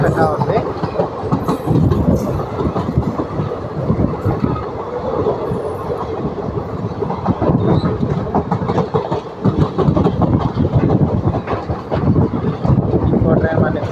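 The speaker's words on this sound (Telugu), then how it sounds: "ఇంకో ట్రైన్ మనకి క్రాస్ చేసుకుంటూ వెళ్తుంది." A passing train crosses on the Vijayawada–Chennai railway route near Nidubrolu station at night, a loud, continuous rumble and clickety-clack of wagons with wind buffeting the microphone, steady from start to finish.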